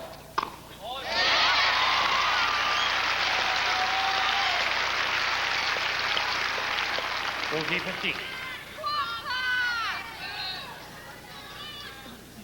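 A Wimbledon 1994 tennis crowd, at a second-round match between Bruguera and Rafter, breaks into loud, sustained applause. The clapping swells quickly, holds for several seconds, then fades, and an umpire's brief score call follows.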